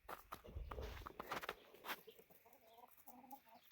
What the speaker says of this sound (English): Chickens are hungry too.